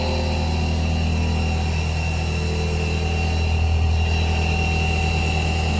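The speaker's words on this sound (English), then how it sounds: "This is rose blower. It will supply air to the production line." A Roots blower feeds air to a melt blown filter cartridge production line, producing a loud, steady low mechanical hum and drone that stays constant throughout, with no voices.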